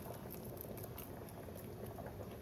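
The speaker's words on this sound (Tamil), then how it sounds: "குழம்பு நல்லா கொதித்து எண்ணெய் பிரிஞ்சு வந்துட்டுருக்குது" Thick curry gravy bubbles and pops steadily in a pot as oil separates, a continuous close simmering burble with no voices.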